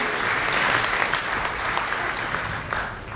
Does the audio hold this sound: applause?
yes